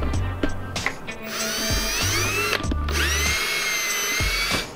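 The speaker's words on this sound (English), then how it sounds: "make a pilot hole here with the small drill bit first" A power drill with a small bit whirs in short bursts while drilling a pilot hole during a Mazdaspeed 3 radiator ducting install, its motor pitch rising as it spins up and bites into material, close and loud.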